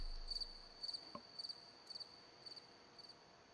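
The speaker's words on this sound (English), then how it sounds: "The crickets at the end were a very nice touch." Crickets chirping at the close of a rap song, a faint, steady sequence of high pulsed trills repeating about every half second, alone in quiet with one soft low knock partway through.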